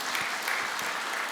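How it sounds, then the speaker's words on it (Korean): Church congregation applauding during a Sunday worship service in a sanctuary, a steady, even wash of many hands clapping throughout at moderate level, with no voices over it. "우리 다시 한번 축하의 박수,"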